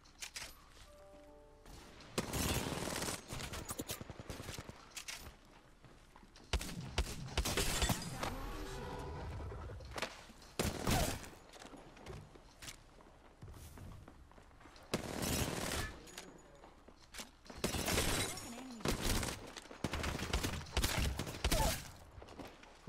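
In Apex Legends, weapons fire in loud, repeated bursts of rapid automatic shots separated by short quiet gaps, with faint footsteps in between.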